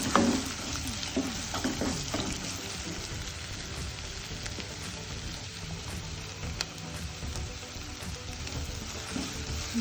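Onions and curry leaves sizzle and crackle in hot oil in a pan, with stirring noises and a steady close hiss throughout.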